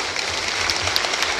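An audience at an annual accountants' conference plenary session claps in a busy, continuous burst of applause that fills the hall and stays loud throughout the short stretch.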